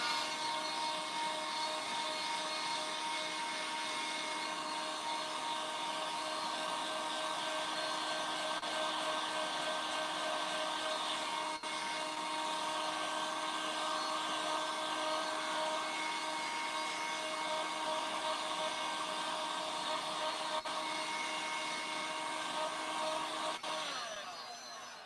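A heat tool blows steadily while warming WoodUBend flexible moulding, a soft, continuous whooshing hum that holds level and fades slightly at the end.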